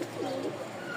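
A male Lotan pigeon coos close up. It gives one soft, rolling coo over a low background hum.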